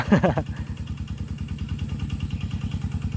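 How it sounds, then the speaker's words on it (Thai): A small single-cylinder walking tractor engine chugs steadily with a fast, even putter, close by, while ploughing a rice field with a disc plough, after a brief louder burst at the start. "ก็ใช้รถไถเดินตามไป ช้าหน่อยก็ไม่เป็นไรนะครับ"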